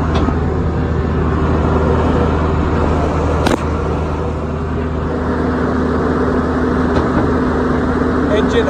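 SBM Remax 1311/11-ED mobile impact crusher with its engine running as the housing is raised, a steady loud diesel drone with low rumble throughout, with a speaking voice over it.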